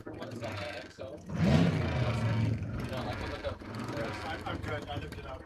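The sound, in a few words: Roger McMillan land speed race car engine at El Mirage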